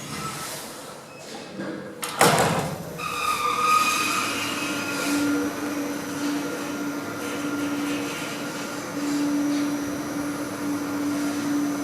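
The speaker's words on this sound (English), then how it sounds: "and the other lift is moving" A modded 1980s Express lift moves in its shaft, heard from on top of the car: a sharp clunk and door-like rush give way to a steady mechanical hum with a sustained tonal whine.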